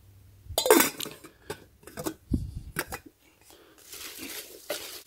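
A small 1-quart stainless steel pot and its tiny lid being handled, giving a few sharp metallic clanks and clinks mixed with rustling packaging. Everything is close, with quiet talk in between.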